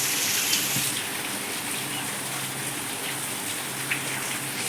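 Steady rain falls in a rural garden setting during the monsoon, a continuous dense hiss of drops hitting surfaces, with a few louder splashes standing out and no voices.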